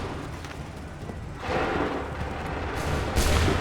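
Cannons firing on command in Assassin's Creed 3, heavy booms rolling in after a quieter stretch, with a second louder blast near the end over a rumbling battlefield background.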